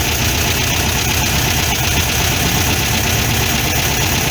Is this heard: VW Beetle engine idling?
yes